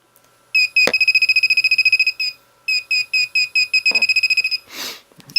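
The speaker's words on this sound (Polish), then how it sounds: "przyłożę go do aparatu. Yy, no on zacznie piszczeć. Czym bliżej obiektu jest, tym szybciej pika." A Chinese-made GPpointer pinpointer metal detector held near a camera emits rapid, loud, evenly pulsed beeps in several bursts, with a sharp click early on and a brief noisy rustle near the end.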